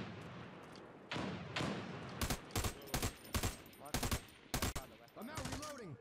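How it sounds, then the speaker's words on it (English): Gunfire in the video game America's Army, shots fired through a wall: a rapid series of sharp, loud reports in bursts of several rounds, with brief talk at the start and end. "Shooting through the wall, trying to see if I can't hit him that way."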